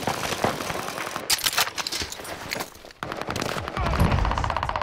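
Rapid automatic gunfire from a Warzone battle royale match, loud and close, bursts of machine-gun fire broken by a brief pause, then continuing with heavier rumbling shots.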